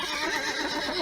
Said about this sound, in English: They were frightened and were neighing loudly and kicking at the doors.